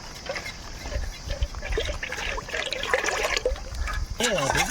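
Gold Winner cooking oil, from a one-litre pack, poured into a pan for fried chicken legs in a village kitchen, a trickling, gurgling pour close by with faint background noise.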